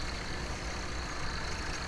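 A tractor in Farming Simulator 17 drones steadily, a faint, even engine hum with no change in pitch or load across the short stretch.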